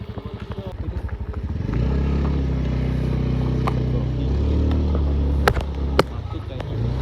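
Motorcycle engines run at a parking area near a camping ground at Curug Ciampea, first a pulsing chug, then a steady louder drone with a few sharp knocks and clatters, with people talking in the background.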